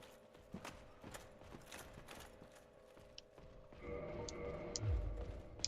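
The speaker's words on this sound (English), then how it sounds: "Is the halberd knight coming?" Heavy armored footsteps of the Halberd Knight in Dark Souls: Remastered thud in a steady, plodding rhythm, faint at first and then louder among low game ambience.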